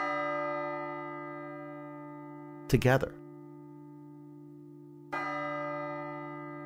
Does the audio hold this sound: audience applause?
no